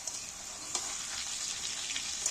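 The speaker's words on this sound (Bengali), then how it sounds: "তেলটা আমার খুব গরম হয়ে গেছে এবার আমি আলুতে তেল তেলের মধ্যে আলুগুলো তুলে দিচ্ছি একটা করে" Whole potatoes fry in very hot oil for fried rice, making a continuous bright hiss with a few small pops and crackles, close by and steady, with no voices.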